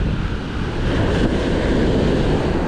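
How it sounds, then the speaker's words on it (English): Ocean surf breaks on a fishing beach as the tide comes up, a loud continuous wash of rushing water mixed with wind buffeting the microphone. "That's the furthest the wave's gone so far."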